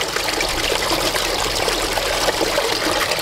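Water gushes steadily from the outlet of a 15,000 litre pump feeding a swimming pool converted into a koi pond filter setup, a dense close rushing splash with no pause and no voices.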